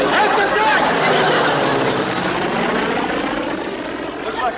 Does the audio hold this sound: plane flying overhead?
yes